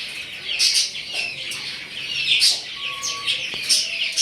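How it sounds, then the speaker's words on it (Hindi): A small bird perched atop a zebra finch cage gives repeated high, bright chirps in quick clusters, with brief bursts of wing flapping between calls, close and fairly loud throughout. "ज़ेब्रा फिश के केज के ऊपर बैठी हुई है चिड़िया।"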